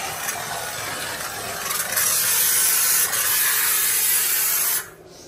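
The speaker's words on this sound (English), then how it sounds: "But I've just been steaming everything." A steam cleaner hisses steadily while steaming household surfaces, a loud continuous spray close by that cuts off near the end.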